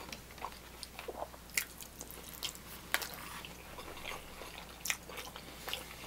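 Shrimp is chewed at a restaurant table, with soft, close, irregular wet bites and crunches, faint and scattered over several seconds and no talk over them.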